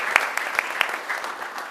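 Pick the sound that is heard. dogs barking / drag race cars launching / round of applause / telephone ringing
round of applause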